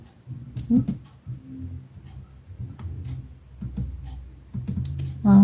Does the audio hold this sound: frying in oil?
no